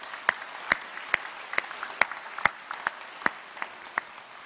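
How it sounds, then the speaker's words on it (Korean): A church congregation claps for one another during a sermon, a sparse, quiet rhythm of single sharp claps spaced roughly half a second apart, heard from a distance in a reverberant hall. "우리 한번 좀 서로에게 축복의 박수 한번 해줬으면 좋겠습니다"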